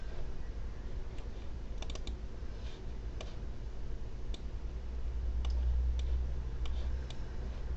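Clicking of a computer during a Windows software installation, scattered sharp clicks and taps spaced irregularly over a low steady hum, close by with no talking.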